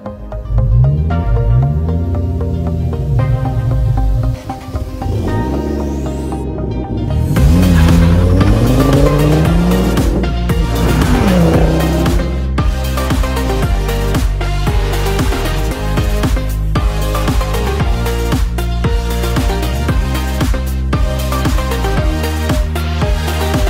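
Ford Focus ST Mk II being driven hard, its engine note climbing and dropping through repeated revs and gear changes, loud and close, with occasional tire squeal and no talking.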